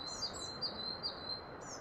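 Small birds, parrots and pigeons in an animated forest story, chirp in a quick series of high, short tweets repeating about three times over a faint background hiss.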